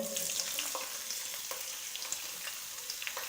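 Onions frying in hot ghee for a yogurt mutton dish, a steady crackling sizzle with light stirring taps, close and continuous with no one speaking.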